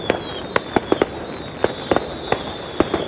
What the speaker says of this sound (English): Another batch of fireworks out there.